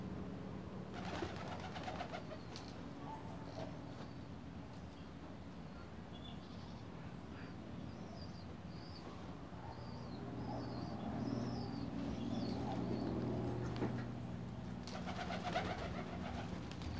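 Birmingham roller pigeons coo softly and repeatedly from close by, with low throaty calls recurring through the stretch over faint chirps of other birds and a mild outdoor background.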